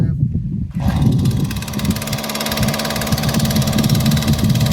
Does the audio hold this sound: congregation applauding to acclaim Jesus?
no